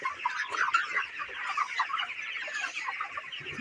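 Broiler chickens about 30 days old on a poultry farm cluck steadily as a dense, continuous flock murmur, close and fairly loud throughout with no voices over it.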